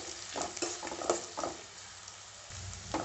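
Onion and crushed garlic sautéing in a pan, with a steady sizzle broken by several short bursts of stirring and spoon scrapes, close and moderately loud, no voices.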